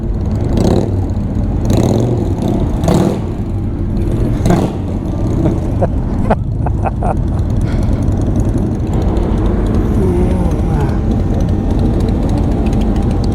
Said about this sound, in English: Somebody will rev it here, I bet you.